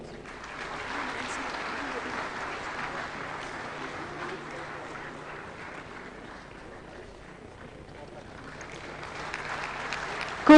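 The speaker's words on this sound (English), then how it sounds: "Kindly keep the applause going." Sustained audience applause fills a hall at a national energy conservation awards ceremony for school students, steady and dense throughout, swelling again near the end.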